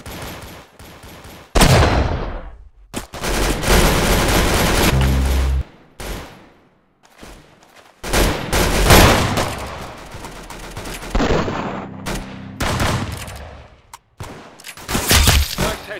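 Gunfire in the shooter video game Arsenal comes in loud, clustered bursts and rapid volleys separated by short quiet gaps, with no talking.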